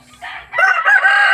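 A rooster gives one loud, close crow that rises and holds before cutting off sharply.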